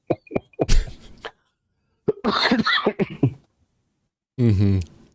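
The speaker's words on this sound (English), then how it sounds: "I wouldn't be coughing" Several short coughing bursts from a person, loud and close, separated by pauses, with a longer voiced, throaty sound near the end.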